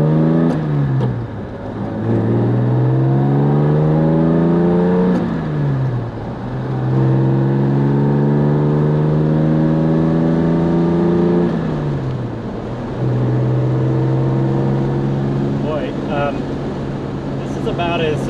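Jaguar E-Type coupe engine climbing an uphill backroad in the Finger Lakes, New York, revving up through the gears in repeated rising sweeps with shift dips between them, loud and close from inside the car.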